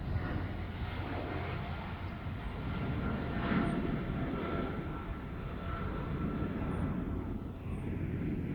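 A twin-engine KLM airliner passes overhead as a steady, broad engine roar that stays loud and even throughout, with no talking.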